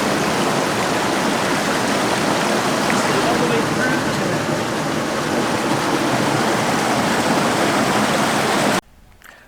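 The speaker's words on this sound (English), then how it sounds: "we stopped along the side of a creek at the end of the Wolf Creek Trail" A creek runs over iron-rich, sculpted rock at the end of the Wolf Creek Trail near Smith Rock, Oregon, giving a steady, full rush of flowing water that cuts off abruptly at the end.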